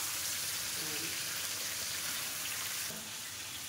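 Hilsa fish going into a hot pan for a Bengali hilsa and aubergine curry, giving a steady broadband sizzle that holds throughout and drops slightly near the end, with no talk over it.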